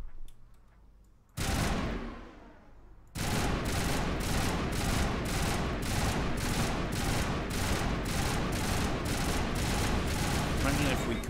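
Gunfire in the Mass Effect video game: after one loud opening blast, a steady automatic burst of evenly spaced, rapid shots hammers on close and loud for several seconds.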